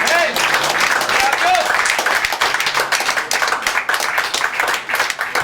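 Congregation clapping at a Spanish-language church service, dense fast applause filling the room with voices and shouts mixed in.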